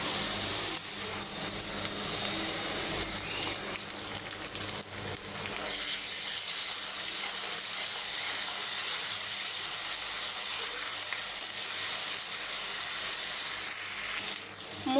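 Onion, ginger and garlic sizzle steadily in hot frying oil, a loud, continuous hiss that runs the whole way through with no voices over it.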